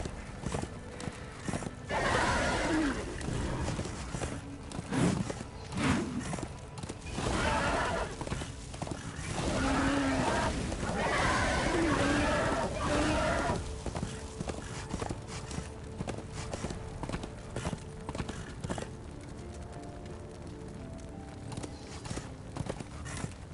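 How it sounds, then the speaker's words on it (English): Horse hooves clip-clop repeatedly in the video game Darksiders II on PS4, with a whinny partway through, steady and fairly close over game ambience and music. "This is no place for a horse."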